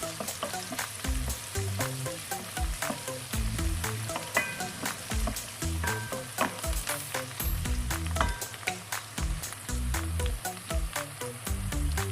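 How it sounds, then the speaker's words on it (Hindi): Onions sautéing lightly in a pan for chicken white karahi give a steady close sizzle and fry crackle, with repeated stirring scrapes and clinks throughout and no talking. "प्याज को बस हल्का सा सौते करना है।"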